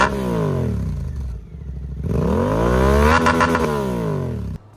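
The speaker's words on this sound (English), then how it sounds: "here's what this motorcycle sounds like with an aftermarket exhaust on it" A 2024 Suzuki GSX-8R parallel twin with 270-degree firing order and aftermarket exhaust revs up loud and close, dips, then climbs again in a rising roar before cutting off abruptly.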